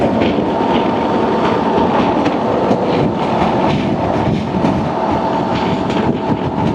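A 2024 Honda Transalp 750 motorcycle rides at highway speed past 18-wheeler trucks, giving a loud, continuous roar of wind and road noise with engine drone and heavy traffic rumble throughout.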